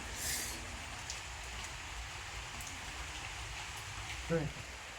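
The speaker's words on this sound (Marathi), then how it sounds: "पाऊस पडता" Steady rain falls, a soft, even hiss of drops that runs throughout at low level, with a brief voice and a faint knock over it.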